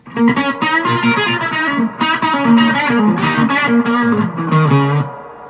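Ibanez EKM100 electric guitar played in a solo tone, a loud, sustained run of bending, singing lead notes with effects and light distortion, heard alone and continuous for about five seconds.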